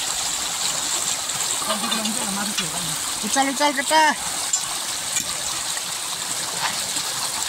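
Stream water running over stones in a Nepali river during traditional fishing, a steady broadband rush throughout with voices talking and calling over it.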